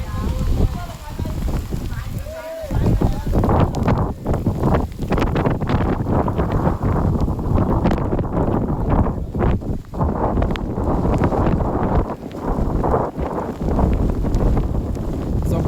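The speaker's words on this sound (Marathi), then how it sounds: "जबरदस्त पाऊस सुटलाय तुम्हाला कॅमेरामध्ये दिसणार नाही एवढा पण साऊंड वगैरे कळेल तुम्हाला" Heavy rain and strong wind on Brahmagiri mountain batter the microphone in loud, rough gusts that continue throughout, with voices partly heard beneath the roar.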